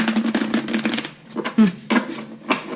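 Rapid riffling of playing cards being shuffled, a fluttering burst followed by a few shorter snaps and taps, close by with no talking.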